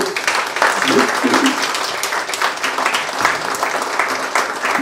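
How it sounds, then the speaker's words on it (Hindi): Applause from an audience at a business meeting of Christian traders at the Lahore Chamber of Commerce, a dense steady wash of clapping mixed with voices talking over it throughout. "आपको भरपूर ताली होंगे"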